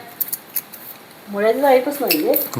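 A metal padlock gives a few sharp clicks and rattles, then a voice starts talking while small metallic clinks continue underneath.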